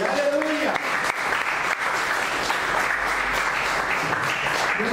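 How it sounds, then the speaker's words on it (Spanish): Worshippers in a church give a round of applause, steady and loud throughout, while a voice is heard briefly at the start and again at the end. "Denle otra ofrenda de palmas"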